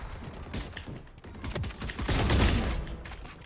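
Ghost pistol shots in Valorant, the tactical shooter: fairly quiet, quick sharp cracks spaced unevenly, bunching into a denser flurry midway through.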